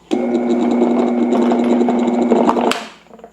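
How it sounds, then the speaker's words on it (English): A blender loaded with ice, milk and water whirs with a loud, steady motor drone at close range for nearly three seconds, then cuts out abruptly and winds down to near silence. "Let's blend it."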